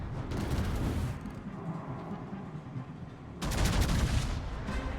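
Ship guns firing in a naval battle video game, with dense rumbling bursts of cannon fire and booms that ease off midway and then surge again loudly near the end.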